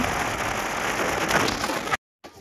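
Rain falls steadily outdoors in a dense, loud hiss of drops on surfaces, breaking off abruptly near the end before a quieter patch resumes.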